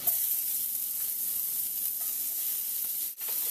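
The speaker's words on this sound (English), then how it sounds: "we want to keep our pan nice and hot. We're going to add our shallots in here." Shallots hiss and sizzle steadily in a hot pan, a loud continuous crackling fry that runs unbroken with a brief dip near the end.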